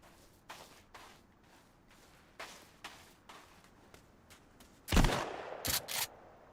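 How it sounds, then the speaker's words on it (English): Shotgun firing in the Sons of the Forest survival game, a loud close blast followed by a couple of quieter shots, after several soft footsteps and thumps, with no voices. "Pull out the shotgun."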